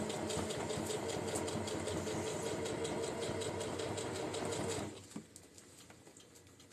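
A sewing machine stitches the lining into a granny square tote, running as a steady, dense mechanical whir for about five seconds before stopping abruptly, followed by a few small clicks and handling noises nearby.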